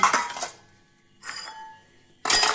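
Cooking pots, pans and cutlery are washed and stacked after preparing a meal, heard as three short bursts of metallic clattering and clinking separated by brief quiet gaps, close by with no talk.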